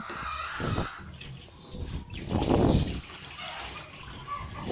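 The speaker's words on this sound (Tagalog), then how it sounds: "tinanggalan ko na nga lang ng tubig at papalitan ko na nga lang ng aking malinisan na" Water sloshing and pouring out of a basin holding live fish, with uneven gushes and drips close by, swelling into a louder rush midway before settling.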